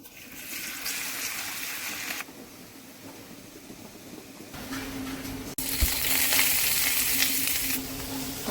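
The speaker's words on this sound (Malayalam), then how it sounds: "ഇനി നമുക്ക് കോളിഫ്ലവർ കുറച്ചായിട്ട് ഇട്ട് ഇളക്കാം കേട്ടോ" Cauliflower stirred and fried in masala in a pan, a loud sizzle that drops away for a few seconds and then returns even stronger, with a short knock partway through.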